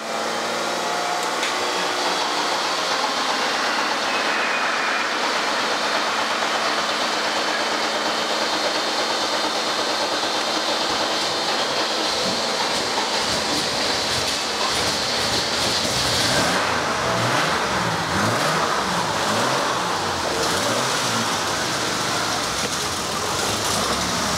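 A car engine runs steadily at raised revs for a long stretch, a loud, droning roar with slight rises and falls and no talking.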